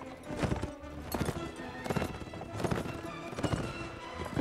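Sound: horse running in video game Mount & Blade Warband

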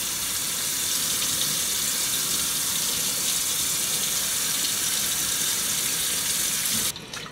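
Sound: tap water running while washing fish

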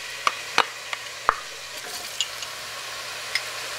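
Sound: vegetables being added to melted butter in a pot

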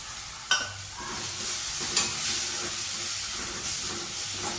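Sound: sautéing greens with ground coconut for ragi adai

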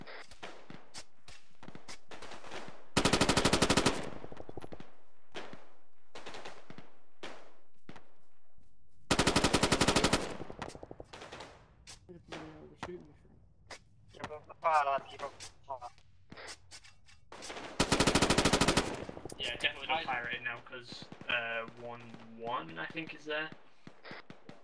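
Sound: machine gun fire during military exercise

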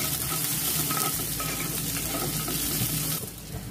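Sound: cumin and green chillies frying in oil

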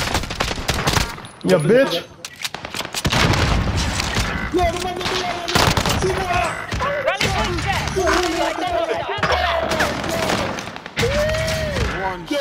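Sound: gunshots

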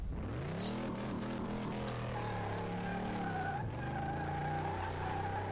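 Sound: car skidding while drifting near a guardrail

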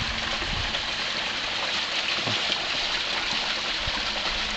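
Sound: small brook flowing

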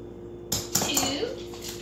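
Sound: half-teaspoon measuring spoon adding melted butter to mug

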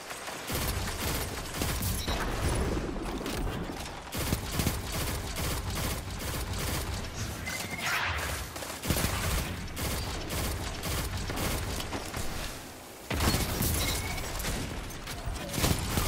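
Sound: pulse rifle gunfire, from video game Destiny 2

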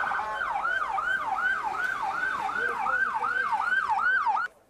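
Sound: ambulance sirens

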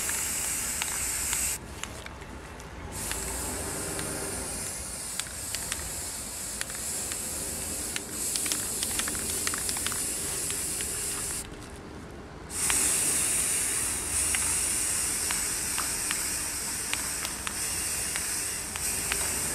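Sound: spray paint being sprayed on a TV tray table

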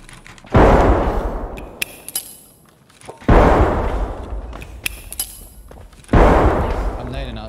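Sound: gunfire in the video game Escape From Tarkov

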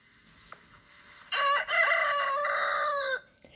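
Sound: rooster crowing

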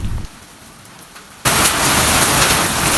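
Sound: heavy rain and wind during a hailstorm

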